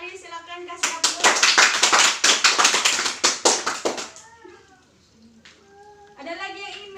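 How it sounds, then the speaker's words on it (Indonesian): A classroom breaks into a burst of quick, uneven hand clapping lasting about three seconds. Speech comes just before and after it. "Silakan kasih aplaus"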